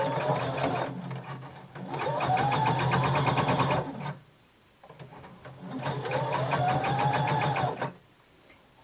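A sewing machine backstitches the seam of a bodice in two steady, close bursts of fast mechanical stitching, each about three seconds long, with a brief quiet pause between them.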